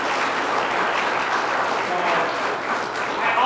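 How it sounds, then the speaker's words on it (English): Sustained congregational applause fills a church after an Advent children's program, dense and steady throughout with no gaps, a broad even wash of many hands clapping at once. "Could I ask you to give them a round of applause?"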